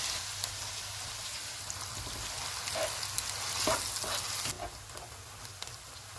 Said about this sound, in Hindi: 2 प्याज डालेंगे, इनको गोल्डन फ्राई करेंगे।